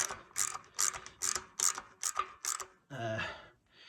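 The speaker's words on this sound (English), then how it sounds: "the adjustment screw actually tightens the gib." A gib adjustment screw being tightened on a machine table, giving a rapid series of about eight metallic ratcheting clicks followed by a short grinding creak, close and loud.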